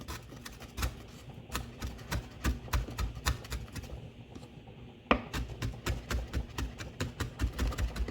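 A knife chops country pepper on a board in quick, regular taps, a steady run of sharp close strikes with a short pause midway, no one speaking.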